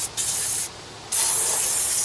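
Two bursts of aerosol lubricant spray hiss onto a Ford's hood hinges, a short one followed by a longer sustained spray after a brief pause, close and fairly loud.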